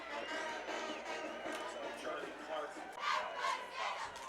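Lancer cheerleaders at a high school football game between St. Francis and Valley Christian, chanting and shouting together in rhythmic bursts amid crowd noise, with voices rising and falling at moderate distance.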